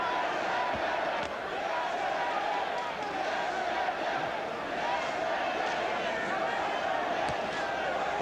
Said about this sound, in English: Polish crowd chanting in Polish on the upper deck.